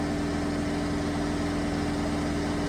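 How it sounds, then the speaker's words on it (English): Diesel engine of a BMW E91 320D with a blocked DPF, held at steady raised revs around 3000 rpm, a loud continuous hum with no talking. "You've got to rev it to 3k revs and hold it there."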